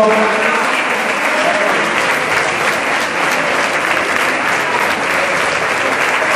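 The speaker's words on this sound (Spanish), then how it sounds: "Fuertes aplausos." Loud, sustained applause from an audience at a fashion award ceremony for a Canarias 2013 runway top model sash presentation, a dense wash of clapping that holds steady throughout.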